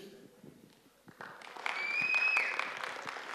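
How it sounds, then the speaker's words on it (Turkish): An audience at a school speaking event gives applause for speaker Halit Çin, light clapping at first that swells and grows fuller toward the end. "Kuvvetli alkışlarınızla Halit Çin."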